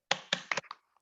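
A small group claps the 'tepuk semangat' cheer in a quick rhythmic pattern of sharp hand claps, a few close bursts with brief pauses, no talking over them.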